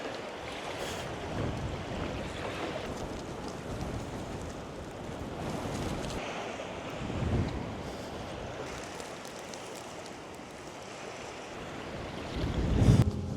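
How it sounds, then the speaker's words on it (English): Gusty wind by a lake on a hike along the Cumbria Way, buffeting the microphone in rough, uneven surges over lapping water, rising and falling throughout with a louder gust near the end. "the increasing wind"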